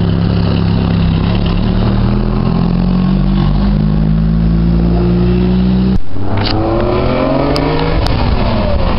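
A BMW 5 Series engine drones loudly and steadily at close range, then a sharp shift in tone leads into a rising rev as it picks up speed.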